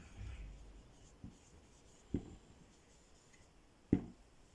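A pen writes an answer by hand on paper, making faint scratchy strokes with a few sharper taps between them, close and quiet in an otherwise silent room.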